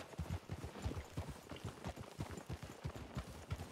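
A horse's hooves clip-clop at a brisk, even trot in the Western video game Red Dead Redemption II, the rhythmic thuds soft and fairly close, with no talk.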